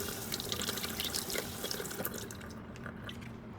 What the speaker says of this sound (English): I rinsed the corn under running water